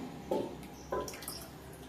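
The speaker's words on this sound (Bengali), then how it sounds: "এখানে আমার টক দইয়ের কারি রেডি ঢেলে নিচ্ছে একটা বাটিতে" Thick yogurt curry (dahi curry) being poured into a bowl gives two brief, soft liquid splats close by, with near-silence between them and no talking.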